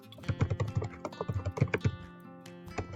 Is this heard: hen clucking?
no